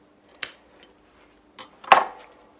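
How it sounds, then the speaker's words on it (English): Scissors trim fabric for a jacket, with two sharp, close snips plus a couple of lighter blade clicks in a quiet room. "I'm just going to trim that one off"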